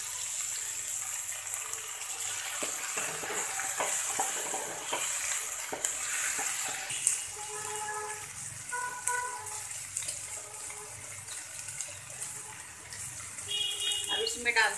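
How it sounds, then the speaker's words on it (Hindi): Chopped tomatoes tipped into a hot frying pan for macaroni pasta, a steady sizzle with stirring and scraping, a voice talking over the cooking. "अब इसमें डाल देते हैं हम टमाटर"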